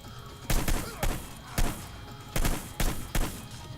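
Gunfire from the video game Hitman: Blood Money, five or six loud sharp shots spaced irregularly across a few seconds over a low background, with no talking.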